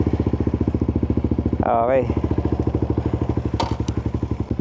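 A Suzuki GSX-R150 motorcycle runs close by on a test ride, its engine giving a fast, steady pulsing putter with a brief revving swell, while a voice speaks briefly over it.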